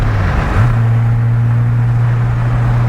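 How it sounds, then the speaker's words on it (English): Porsche 997.1 with a supercharged 4.1-litre build and aftermarket exhaust, cruising with a steady low exhaust drone that rises slightly in pitch early on, then holds even and close throughout. "Maybe just a little bit of drone out of this exhaust"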